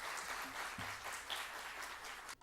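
An audience at a book-launch event in a university hall gives a speaker a welcoming round of applause, quiet and somewhat distant, with steady clapping that fades out at the end.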